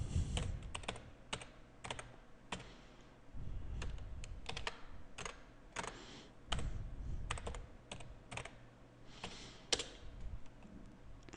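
Program code typed on a computer keyboard in the Geany development environment on Ubuntu, in quick bursts of key clicks separated by short pauses, close and fairly quiet.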